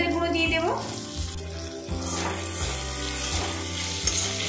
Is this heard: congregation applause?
no